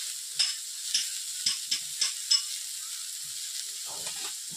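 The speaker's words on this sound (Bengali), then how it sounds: "এরপর নেড়ে নিচ্ছি আলুর সঙ্গে" Gima greens fry in a pan with potatoes under a steady soft sizzle, while a spoon or spatula stirs them in a series of light scraping clicks that fade toward the end.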